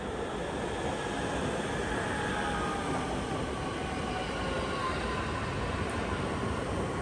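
A train at the Copenhagen airport station gives a steady, loud rumble and rolling roar that holds without break throughout, with faint high squeal traces above the noise.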